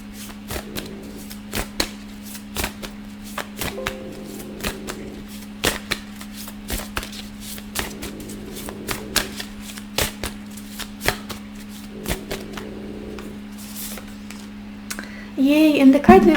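Tarot cards shuffled in repeated riffling bursts with sharp snaps between them, close and fairly quiet over a steady low hum, with a brief louder rustle near the end.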